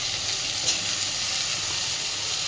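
Chopped onions and slit green chillies hitting hot oil with frying potato and eggplant in a fish-fat chorchori, giving a steady close sizzle and hiss throughout with no talk.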